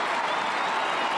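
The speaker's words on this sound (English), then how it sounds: "Crowd rise." A large football stadium crowd at an Australian rules match rises and cheers, a loud, dense, continuous roar with applause that holds steady for just over a second.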